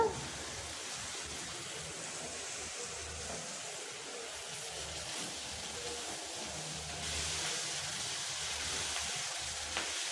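Handful of washed coriander leaves sautéing in sesame oil for a chutney, a steady soft sizzle and hiss running throughout, growing slightly louder near the end, with no talk over it.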